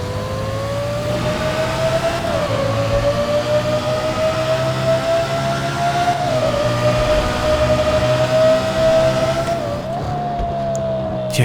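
A Lexus LFA in GTA 5 revs beneath a bridge under a military base. The engine note is high and sustained, swelling and dipping through several revs, with echoing wind and traffic-like rumble under it and no talk.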